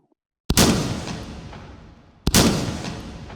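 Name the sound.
shotgun firing double-aught buckshot in video game H3VR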